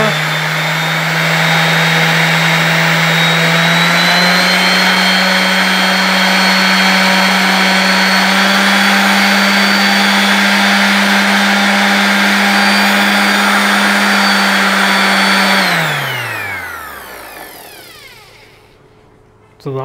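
A DeWalt DWE6423K 5-inch random orbital sander runs loud and close with a steady high whine, stepping up slightly in speed early on, then switching off and spinning down to silence near the end.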